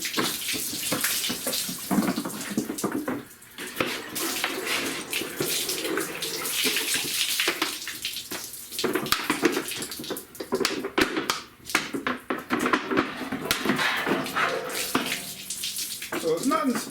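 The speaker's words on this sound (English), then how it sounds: "just come in and wash this frame down" Water from gallon jugs poured to wash degreaser off a sanded, rusty car frame, a close splashing, gushing stream that comes in uneven bursts with brief pauses between pours.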